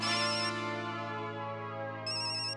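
A phone rings with a steady electronic ringtone that holds for a couple of seconds at close range, with a brighter burst near the end and no talking over it.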